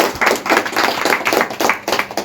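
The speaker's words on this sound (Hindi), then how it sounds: "इनके लिए एक बार जोरदार ताली।" A burst of clapping from a group at a BJP membership drive gathering, dense and uneven, rising and falling in short waves for a couple of seconds.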